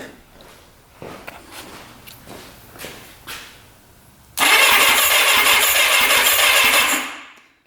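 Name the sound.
starter turning over Suzuki Quadzilla 750cc quad engine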